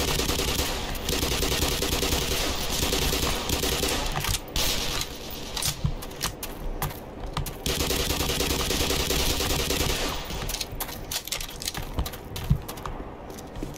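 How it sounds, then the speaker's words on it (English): Sniper rifle fire in Black Mesa, with sharp cracking shots scattered across a busy, noisy stretch of game sound, several sudden bursts standing out against a dense background. "That was a sniper rifle."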